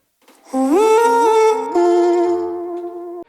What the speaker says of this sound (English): Echo Boy is added, which does a more normal delay effect